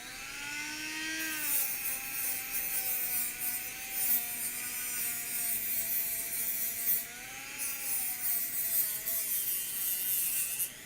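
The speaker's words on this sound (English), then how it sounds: "so get my Dremel out" A Dremel rotary tool cutting a part, a steady high-pitched whine with wavering pitch as the load changes, close and continuous with gritty grinding noise underneath.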